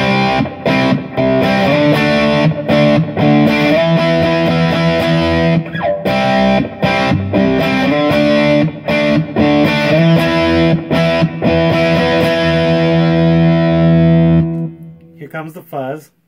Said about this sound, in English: Here comes the distortion.